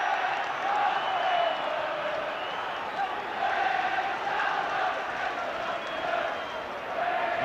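Football crowd at Molineux during a Wolves versus Tottenham UEFA Cup Final first leg in 1972, a steady distant roar of cheering and chanting that swells and dips, with commentary over it.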